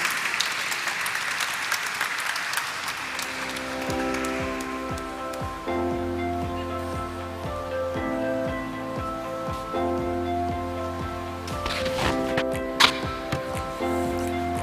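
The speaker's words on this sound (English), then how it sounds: "Let's have a huge round of applause for him, please." An audience at the listing ceremony of Essen Speciality Films Limited breaks into a dense round of clapping that fades after a few seconds as steady ceremonial music takes over.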